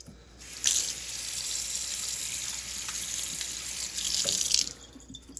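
Hot water gushes steadily from a kitchen tap into a sink for about four seconds, a close, even rushing stream that swells slightly at the start and end before cutting off, with no voices.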